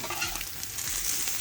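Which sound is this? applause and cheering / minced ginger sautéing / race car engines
minced ginger sautéing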